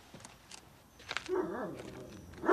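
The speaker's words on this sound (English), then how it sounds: "And then she heard the dog." A dog barks in a quiet setting, with one or two short, moderately loud calls in the middle of the clip against faint background noise.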